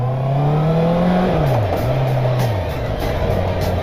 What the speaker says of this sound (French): tu entends que le bruit du 4 cylindres